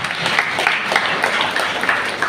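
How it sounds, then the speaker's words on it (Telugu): A church congregation claps together during a Sunday worship service, a dense, lively patter of many hands keeping a loose, rhythmic beat at moderate loudness. "చప్పట్లు కొట్టి దేవుని మహిమపరుద్దాం"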